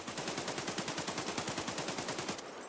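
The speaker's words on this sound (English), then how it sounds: "This is going to be a full auto spray with my mouse up in the air" A 5.45 AK rifle fires on full auto in a shooter game, a rapid, steady stream of evenly spaced shots, about ten per second, continuing for over two seconds before stopping abruptly, with no voices.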